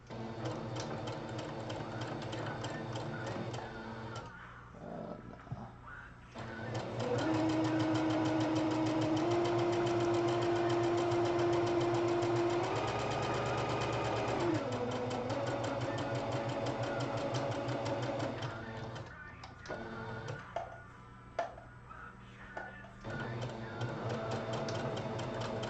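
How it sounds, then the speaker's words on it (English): Sewing machine stitching fabric for a Resident Evil tentacle prop, a steady loud mechanical whir and chatter running for long stretches with short stops and restarts between seams. "Now I just have to sew"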